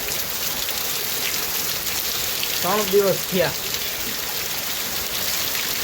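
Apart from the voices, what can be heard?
heavy continuous rain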